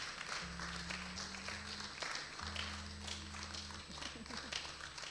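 A church congregation at a Sunday service in London cheers and claps for a couple coming forward, a steady wash of clapping under voices and sustained tonal sounds.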